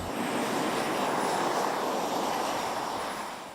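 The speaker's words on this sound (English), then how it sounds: "The unique thing about being a pilot of an airplane like PTERA is that it's multi-engine." PTERA multi-engine modular research airplane in flight, a steady broadband engine roar that holds loud and even throughout, with a faint rising whine on top and no voices.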